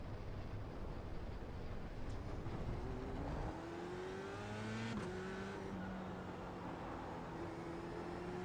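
Formula race car in iRacing at Indianapolis, engine note climbing and dropping through gear changes at a moderate, somewhat distant level, with a faint tire squeal and no talk.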